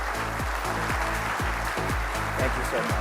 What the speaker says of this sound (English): A round of applause for our esteemed panelists.